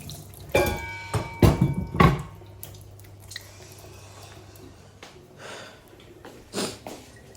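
A cutting board used for raw meat is rinsed under running water in a home kitchen, with a few loud splashes and scrubbing knocks early on, then softer trickling and dripping.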